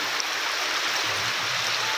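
Floodwater rushes through a low-lying flood channel after heavy rain: a steady, dense, close wash of flowing water with no breaks.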